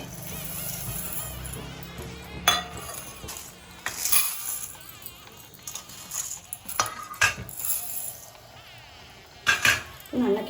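Rice with moong dal and rock sugar is stirred in a cooking pot, with faint intermittent scrapes and clinks of a spoon against the pot.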